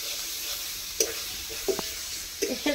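An onion mixture for onion paratha is sautéed in a pan over a soft, steady sizzle, with a few short scrapes and taps as a spoon stirs it.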